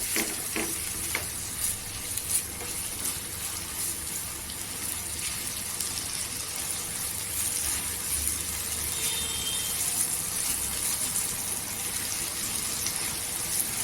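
Onion with ginger garlic paste fries in oil for a chana masala, a steady sizzle with frequent spoon stirs and scrapes heard up close, with no speech.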